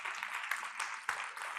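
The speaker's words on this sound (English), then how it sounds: "So a big round of applause to you as well." Faint applause from a leadership summit audience, scattered claps pattering at a distance and fairly soft throughout.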